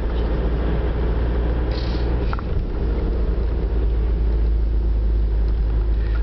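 A car drives through the town of Ostróda, Poland, its steady engine and road rumble loud and continuous throughout, with no talking.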